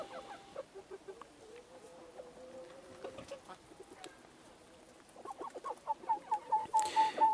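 Roosters near each other, one unwilling to fight, give soft low clucks and murmurs that grow into a run of repeated, louder clucking toward the end, heard close with no talk.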